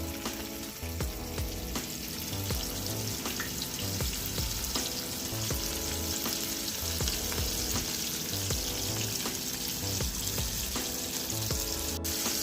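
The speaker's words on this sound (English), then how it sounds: "Now I'm frying this at about 365 degrees." Loud, steady crackling sizzle of coated fish deep-frying in oil at about 365 degrees, continuous and close, with a low rhythmic hum underneath and no talking.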